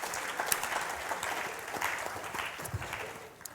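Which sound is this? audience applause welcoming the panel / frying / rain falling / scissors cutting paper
audience applause welcoming the panel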